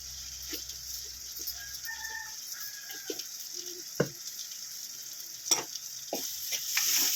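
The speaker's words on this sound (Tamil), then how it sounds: "இந்த பக்கம் தாளிப்பு ரெடி ஆகிட்டு நல்லா வதங்கட்டும்" Fennel seeds and crushed garlic tempering in hot oil in a pan, a steady soft sizzle with occasional stirring clicks and scrapes, a rooster crowing faintly in the background.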